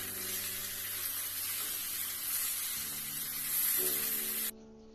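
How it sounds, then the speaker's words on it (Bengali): Mixed vegetables, including pointed gourd and flat beans, sizzle steadily as they are stir-fried in a pan for Bengali shukto, a continuous hiss with faint tonal hum beneath that cuts off abruptly near the end. "আমরা এই সবজিগুলো এর সাথে ভালোভাবে কষিয়ে নেব"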